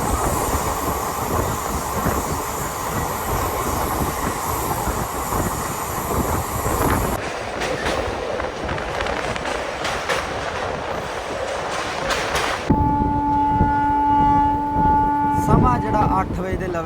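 Train running on rails in Odisha, heard from aboard as a continuous rumble with clattering wheels, a shift in tone partway through, then a sustained tonal squeal or horn-like whine near the end.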